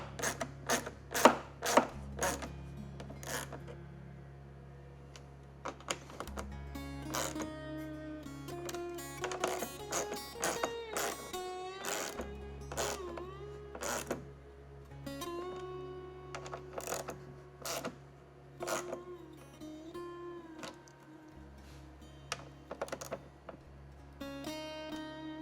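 Bolts are snugged up on an Acerbis fuel tank fitted to a KTM XCF 350, giving a scattered series of sharp metallic clicks and taps at close range over a low steady hum.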